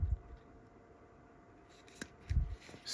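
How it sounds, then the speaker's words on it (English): Scissors snip through a zip tie on a pair of glasses, a single crisp close cut followed by soft handling rustles in a quiet room. "Scissors might even be a better way to do this."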